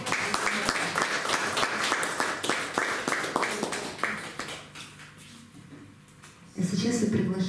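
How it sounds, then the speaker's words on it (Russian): Audience applause at a live folk-style concert, a dense burst of clapping for several seconds that fades, then a voice speaking. "Аплодисменты и поздравления с днем рождения Алене Виноградовой."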